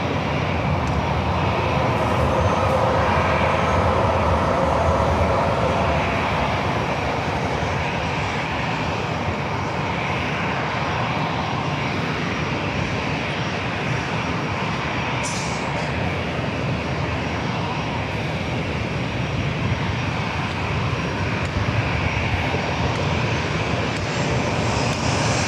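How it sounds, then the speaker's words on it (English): A Delta Airbus A321 jet at an airport produces a loud, continuous engine roar that stays steady and broadband throughout, with no talking. "This flight heading to Atlanta, this A321 with Delta."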